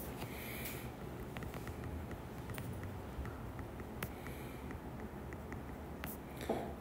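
A real-coefficient quadratic equation is chalked onto a classroom board, with faint scratchy strokes and occasional taps heard close over a steady room hiss, no talking.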